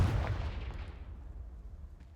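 Confringo fire spell explosion in the Hogwarts Legacy video game, a loud booming blast at the start that rolls off into a fading rumble over about two seconds.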